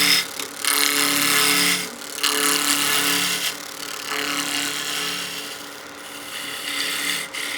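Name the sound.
skew chisel peel cuts on wood turning on a lathe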